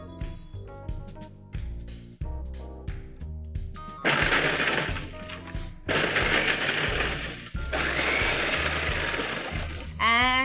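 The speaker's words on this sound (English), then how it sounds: "I'm going to put it in the food processor to get fine crumbs." Oreo biscuits with cream filling are ground into fine crumbs in a food processor: loud, choppy bursts of crushing and rattling that settle into sustained whirring grinding, stopping and restarting several times.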